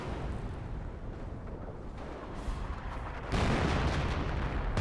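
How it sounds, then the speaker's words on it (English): Artillery rumbles through a Company of Heroes battle as a howitzer barrage and a Flak 88 fire, a steady low roar of distant blasts that swells sharply louder partway through. "Howitzer barrage back here. Flak 88 firing away."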